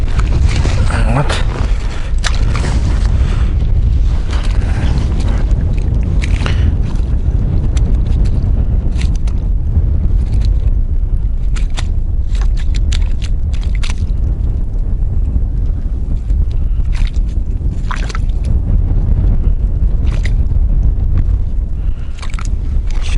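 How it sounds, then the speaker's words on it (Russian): Strong wind on a frozen lake during ice fishing in Yakutia buffets the microphone continuously, a loud low roar with gusty rumbling and occasional creaks throughout. "Сегодня у нас довольно ветрено погода."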